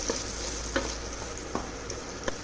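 A small bowl of chopped tomatoes sizzles in a hot pan for a Punjabi paneer lababdar curry, a steady close frying hiss broken by a few soft clicks of stirring.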